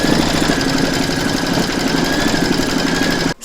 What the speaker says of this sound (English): Pop your hoop into your machine and stitch round number 3 to attach it.